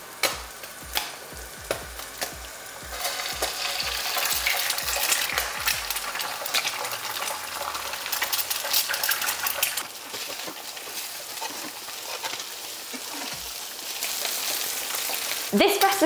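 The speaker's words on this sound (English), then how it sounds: "I'm gonna get ready to fry the eggs" Eggs frying in a pan with a steady loud sizzle and crackle, preceded by several clacks and taps of utensils or shells at the start, the sizzling continuing close and unbroken.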